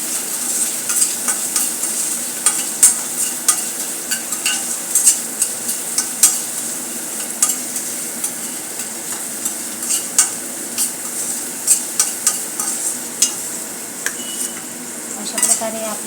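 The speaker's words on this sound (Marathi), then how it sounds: "आता आपल्याला तळायचे आहे शिमला मिर्च." Capsicum frying in oil in a pan for kurma bhaji, with a steady close sizzle and repeated scraping, clinking stirs of a spoon against the pan throughout.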